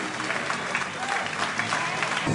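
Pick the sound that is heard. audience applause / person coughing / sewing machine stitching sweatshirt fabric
audience applause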